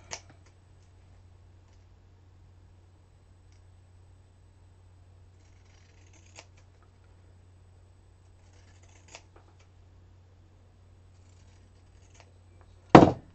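Scissors cut scrap fabric in a quiet room, with a few sparse, faint snips spread out and one louder, sharper snip near the end, over a low steady hum.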